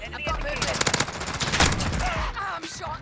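Rapid automatic gunfire in the video game Call of Duty Modern Warfare from a P90 submachine gun, a short burst of shots layered with someone talking over it.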